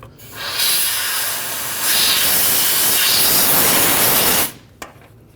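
Compressed air blasts along the top of the fuel tank on a 1999–2006 Chevrolet Silverado 1500, a loud, close, steady hiss lasting about four seconds before cutting off abruptly.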